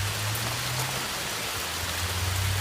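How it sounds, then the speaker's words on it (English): Steady rain falling outdoors beside a van under conversion, a broad even hiss with a low steady hum underneath, continuous and moderately close throughout. "now it's raining"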